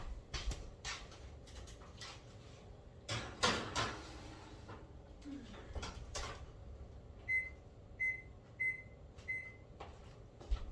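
Kitchen oven door and tray clatter as a first batch of Christmas cookies goes in: several bumps and knocks, a door shutting, then four short electronic beeps from the oven, all fairly close in a quiet room.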